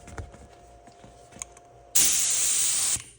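An airbrush opened wide sprays paint in a loud, steady hiss lasting about a second, starting abruptly and cutting off, after quiet handling noises and clicks.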